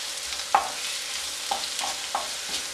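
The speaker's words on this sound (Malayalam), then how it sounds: "അതിൻ്റെ കൂടെ തന്നെ നമുക്ക് സവോളയും ചേർത്ത് വഴറ്റിയെടുക്കാം ഇത് നന്നായിട്ട് വഴറ്റിയെടുക്കണം" Onions and green chillies sauté in a hot pan for okra mappas, a steady sizzle broken by a few light scraping strokes of the spoon as they are stirred.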